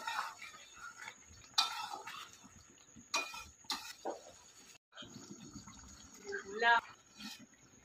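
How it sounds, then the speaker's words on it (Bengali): Water is poured lightly into a pan of braised meat, a soft close splash and trickle late on, mixed with clinks and handling noises while a person speaks throughout. "এখন জল দিয়ে দিবে হালকা করে"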